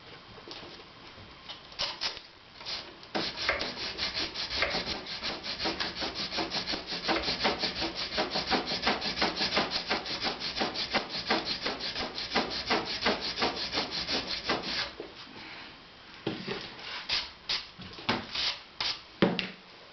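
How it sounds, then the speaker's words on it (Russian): Sandpaper rubs back and forth over the wooden soundboard parts of a jew's harp in quick, steady strokes that run nearly continuously, then break into a few separate scrubbing passes near the end. "Наждачка быстро стирается, вы почувствуете, как процесс стал менее эффективным."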